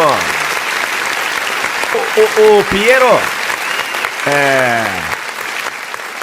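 A studio audience applauds in a continuous wash of clapping while a voice speaks and calls out over it.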